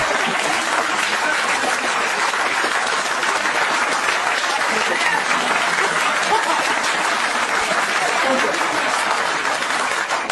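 Sustained audience applause fills a political debate hall, a dense, steady wash of clapping holding at an even, loud level throughout with no break.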